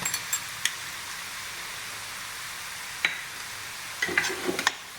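Onion and chutney spice paste frying in oil over a low gas flame, with a steady soft sizzle throughout and a few sharp clinks of a spoon stirring in the pan near the end.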